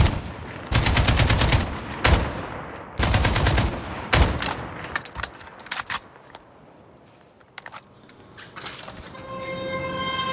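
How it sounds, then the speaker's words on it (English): Gunfire rings out in a street in Port-au-Prince, Haiti: several loud bursts of rapid shots and single cracks, echoing and spaced unevenly, with quieter gaps between them. "we have to wait behind this wall until the shooting stops"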